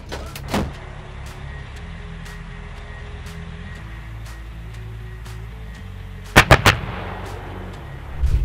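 A PzH 2000 self-propelled howitzer fires with a sharp booming blast, followed later by a cluster of loud bangs over a steady low engine rumble.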